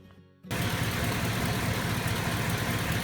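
A 1965 Ford engine starts and settles into a steady idle, a close, low rumbling that continues evenly.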